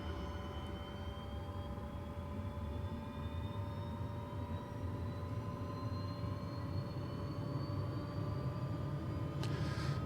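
An Aérospatiale Lama helicopter engine starts up in Microsoft Flight Simulator 2024. It gives a steady turbine whine with tones that rise slowly, holds a constant drone for about ten seconds, and has no talking.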